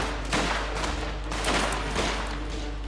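Video game gunfire in Mafia as enemies shoot at the player, a dense rattle of overlapping shots and bursts that runs steadily through the whole stretch with no talking.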